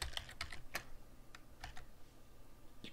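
Rapid typing on a computer keyboard while entering a value in a video editor's settings window, a few short bursts of close, crisp key clicks spaced irregularly over a quiet room hum.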